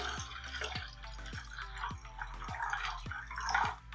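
Water is added to a cup, falling in a series of small distinct drips and splashes at a fairly regular pace, close and quiet.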